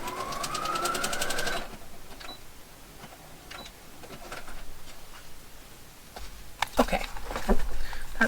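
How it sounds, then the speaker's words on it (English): A sewing machine stitches through scrappy linen on a fairy journal page in a short close burst of rapid mechanical whirring, then stops, followed by quiet handling and a few later clicks and knocks. "Then I'm going to actually stitch through it down the center"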